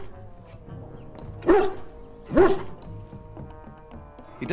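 A war dog in the video game Dragon Age: Origins gives two loud barks about a second apart over a quiet in-game ambience, then starts a third bark at the end.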